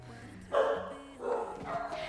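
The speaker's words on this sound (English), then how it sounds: "Now they bark" Dogs bark in short bursts, three or four sharp barks spaced about half a second apart at moderate distance, with fainter yips and whimpers and a low voice underneath.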